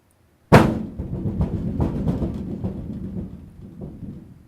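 Metal impact made by banging on the side of a furnace: one sharp, loud hit followed by a rumbling, ringing decay with a few softer knocks as it fades.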